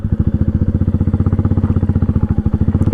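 A Royal Enfield Meteor motorcycle rides along a gravel dirt road, its engine thumping in a loud, even, rapid pulse close to the microphone, with no talking.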